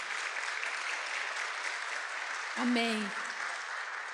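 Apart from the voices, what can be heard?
church congregation applauding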